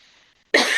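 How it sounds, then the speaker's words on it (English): A single loud, harsh cough bursts out close to the mic after a near-silent pause, with a faint murmur of room tone before it. "I'm about to cough."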